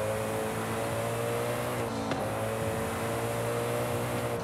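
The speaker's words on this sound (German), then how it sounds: "Schaffen wir 400 km/h in der Stadt zu fahren?" A car in the Forza Horizon 5 racing game accelerates to very high speed through a city, a steady loud engine roar with sustained tonal whine and a brief whoosh partway through. No one talks over it.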